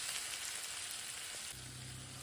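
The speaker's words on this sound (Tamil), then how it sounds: "வெங்காயம் வதங்கிடுச்சு" Onions sautéing in a pan for masala sambar, an even close hiss of frying that drops slightly in level partway through, with a low steady hum underneath.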